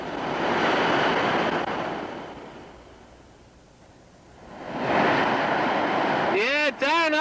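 Whitewater of a Class 5 rapid on the Gauley River rushing loudly and close, easing off midway and then surging back. Wind buffets the microphone, and a short whistle-like tone sounds near the end.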